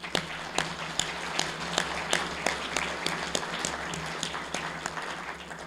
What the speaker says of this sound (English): And I think they deserve a round of applause for that.